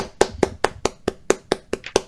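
Two audience members at a live podcast recording clap about nine times in a quick, even rhythm, each clap sharp and distinct, with no other sound between them.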